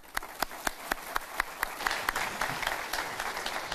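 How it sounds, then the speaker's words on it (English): An audience claps at a morning lecture welcoming a speaker, starting with a few sharp, evenly spaced claps that swell into fuller, denser applause. "Can we please welcome him with a big round of applause?"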